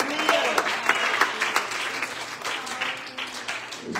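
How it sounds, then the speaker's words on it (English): A church congregation claps their hands together in a sustained round of applause at a sermon, dense and fairly loud with scattered individual claps, cheers and vocal shouts mixed through the crowd noise. "Will you clap your hands one more time?"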